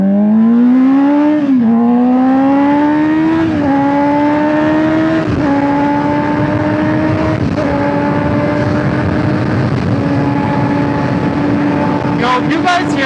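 A 2024 Honda CBR600RR sport bike pulls hard through the gears, its high inline-four wail climbing in pitch, dropping briefly at each quick upshift, then climbing again, loud and close throughout.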